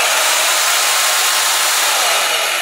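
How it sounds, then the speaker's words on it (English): A bandsaw running on an 8000 watt inverter gives a loud, steady, uniform whirring hiss that holds constant throughout with no pauses. "Let's try this bandsaw on the inverter."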